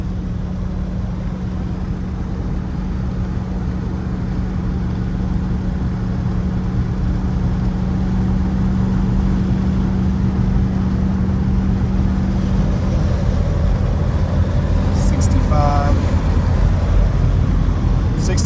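A 1990 Chevrolet Suburban 2500 4x4 with a standard 350 V8 cruises near 60 mph, a loud, steady low engine and road drone heard from inside the cab throughout, with a few faint higher tones late on.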